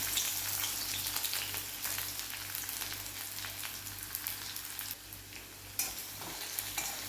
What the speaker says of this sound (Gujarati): 1 જ મિનિટ માટે ખાલી સાંતળવાના છે